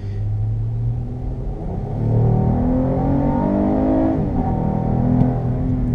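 A 2017 Acura MDX's V6 engine revs up under acceleration, its close, throaty growl climbing and swelling in pitch across several seconds before easing slightly, with no talking.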